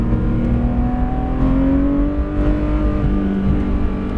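Porsche 911 GT3 RS with PDK gearbox, 991.2 generation, driven hard on the Maison Blanche track at Le Mans, its engine a loud continuous roar rising in pitch under acceleration, heard from close by without talk.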